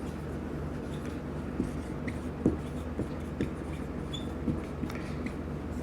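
Chalk or marker writing on a classroom board during an accounts lesson, a steady scratchy scrawl with small taps and strokes, fairly quiet against a faint room hum and no talk.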